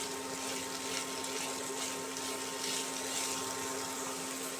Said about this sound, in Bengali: হাই ফ্লেমে এটাকে স্টিয়ার ফ্রাই বা সতে করে নেব।